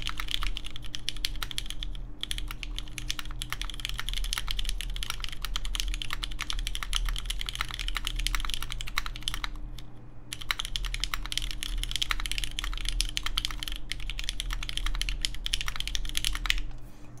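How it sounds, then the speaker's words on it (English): Continuous fast typing on a Han Boards Reflection custom mechanical keyboard, soft and bouncy in feel, gives dense, close clacking keystrokes with two brief pauses over a low electrical hum. "so it definitely has a lot of soft kind of like typing feel to it"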